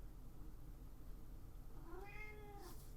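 A pet cat meows in a few rising and falling calls near the end, clear over a steady low room hum.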